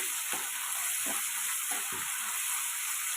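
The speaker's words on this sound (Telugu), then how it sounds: "ఆనియన్స్ అయితే బాగా ఫ్రై కావాలి" Onions and green chilies fry in a pan for a dried fish curry, a steady close sizzle with several soft stirring scrapes spaced through it.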